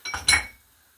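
A spoon clinks against a bowl while clotted cream is mixed, two quick bursts of close, bright scraping and chinking that fade out within a second, with no talk.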